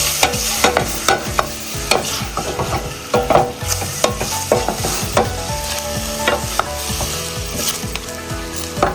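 Spicy chicken liver, heart and gizzard adobo being stirred in a pan, a spoon scraping through the meat in quick, repeated strokes over a steady close sizzle, with no talking.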